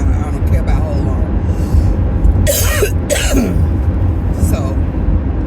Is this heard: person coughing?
yes